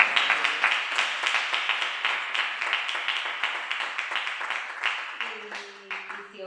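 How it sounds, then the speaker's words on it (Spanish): A small group claps in a brisk, fairly even rhythm at a poetry book presentation, the individual claps distinct and close, fading slightly toward the end as a faint tone appears. "primero el aplauso"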